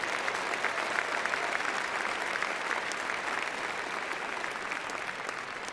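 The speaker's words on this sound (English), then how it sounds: "can we give one more round of applause to our four retirees and one who's leaving?" A graduation audience applauds retirees, dense continuous clapping from a large crowd heard at some distance, steady and moderately loud throughout.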